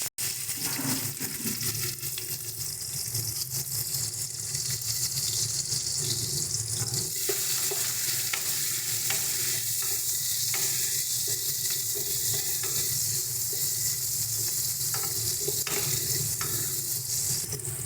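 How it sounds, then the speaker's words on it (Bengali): Chopped onions fry in a pan for a prawn dish, a steady loud sizzle and hiss running the whole time with scraping and clinks of stirring scattered throughout. No one speaks. "দেখো, পেঁয়াজটা আমাদের হালকা ভাজা হয়ে গেছে"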